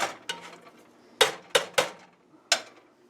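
Onions tumble into a hot metal pot for chili stew, giving several sharp clanks and clatters at uneven intervals, close by and fairly loud, with no voices.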